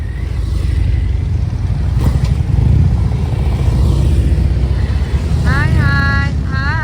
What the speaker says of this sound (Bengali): এই যে বাইক যাচ্ছে